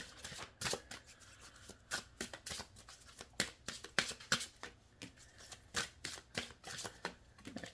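Tarot cards handled and drawn from a deck, a series of crisp, close flicks, snaps and riffles in an irregular rhythm, quiet and alone.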